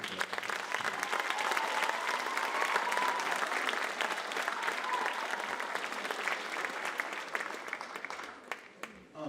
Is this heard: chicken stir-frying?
no